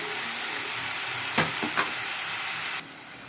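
Spices sizzling and frying in a hot pan, a continuous loud hiss with two quick stirring scrapes in the middle before the sizzle drops sharply quieter near the end.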